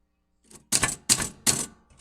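Typewriter keys striking in a slow rhythm, four or five distinct clacks close up in a quiet room as a letter is typed in black, with no talking.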